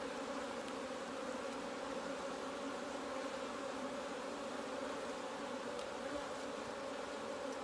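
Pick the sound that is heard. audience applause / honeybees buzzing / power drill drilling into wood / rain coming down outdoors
honeybees buzzing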